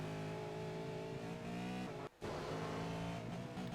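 Engine of a V8 Supercar in iRacing at Circuit Gilles Villeneuve, a loud, steady high-revving roar with layered harmonics that breaks off for an instant before surging back on.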